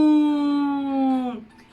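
Children and an adult imitate a cow's moo together, a single drawn-out sustained tone that slides slightly down in pitch and fades away.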